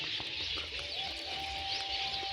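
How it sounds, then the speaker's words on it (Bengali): Birds call continuously in an open outdoor space, a steady chorus of chirps with a faint cooing note, no voices. "চিল্লামিল্লি করছে অনেক অনেক পাখি আছে এখানে গাইস এখন ডাকছে আমাদের গাইস"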